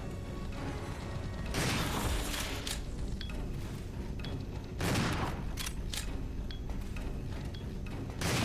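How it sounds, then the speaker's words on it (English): Shotgun blasts fired at enemies in the Resident Evil 0 video game, heavy booming shots landing in a couple of loud bursts over a noisy, clattering game soundscape. "so I'll use the shotgun here. 2 shots should do them in"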